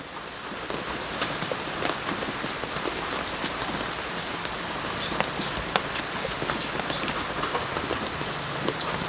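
Steady rain falls on a surface outdoors, a dense continuous patter of drops with scattered louder splats, no talking heard.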